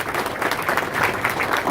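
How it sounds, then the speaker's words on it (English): Audience applause at a California congressman's town hall, a short burst of scattered clapping from a crowd in the room, lasting under two seconds. "Give him a round of applause"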